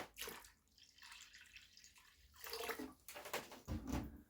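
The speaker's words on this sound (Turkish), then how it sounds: "Şöyle üzerine biraz daha su koyuyorum." Water is poured onto a bağlama, a faint, close trickle with a few soft drips in an otherwise quiet room.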